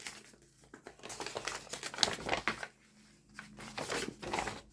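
Paper folded by hand for a vintage-look journal: close, quiet bursts of crinkling and dry rustling in uneven surges separated by short pauses.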